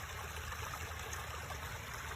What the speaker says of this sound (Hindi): फिर यहाँ पे पानी गिर रहा है उसकी भी एक आवाज आ रही है।